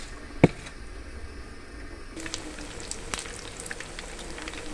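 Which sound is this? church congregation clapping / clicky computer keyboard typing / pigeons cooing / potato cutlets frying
potato cutlets frying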